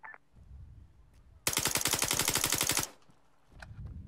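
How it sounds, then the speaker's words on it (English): Heavy automatic gunfire in the Arma 3 military video game: one sustained burst of rapid, evenly spaced shots lasting about a second and a half, loud and close, with quieter ambient background before and after. "It took some heavy shooting."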